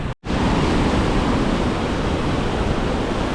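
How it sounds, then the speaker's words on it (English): A waterfall in Portugal roars as a dense, steady, broadband rush of falling water, loud and close, continuous apart from a momentary dropout at the start. "So we're down here at a waterfall."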